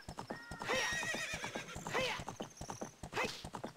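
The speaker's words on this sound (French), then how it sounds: "encore une balade de cheval" A horse galloping across the plain in The Legend of Zelda: Ocarina of Time: quick, evenly spaced clip-clop hoofbeats run throughout, with repeated whinnying neighs layered over them, clear and up front.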